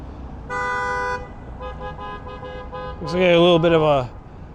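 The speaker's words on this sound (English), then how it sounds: "Looks like there's a lot of traffic." Car horns honk in a street traffic jam on the Ocean Parkway service road along Kings Highway in Brooklyn, New York: one steady toot, softer beeps, then a loud, wavering blast near the end.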